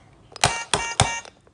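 Three short, bright electronic car-horn honks in quick succession from a toy, each a loud buzzy burst, with no talking.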